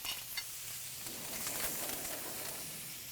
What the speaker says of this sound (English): So when I add the herbs, they're going to start to sizzle right away.